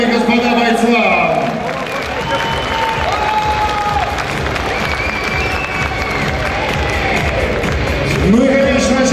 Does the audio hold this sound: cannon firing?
no